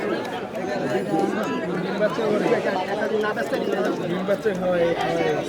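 Pigeons coo under a busy crowd of chattering voices at an outdoor pigeon market in Meradia, Bangladesh, the bird calls mixed into steady nearby talk.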